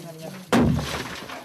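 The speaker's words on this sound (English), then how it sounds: "The sound you just heard is literally the cracking of the earth as pressure is released." Deep in the Tau Tona gold mine, a seismic event cracks the rock with a single sharp, loud boom that decays into a rumbling tail over about a second.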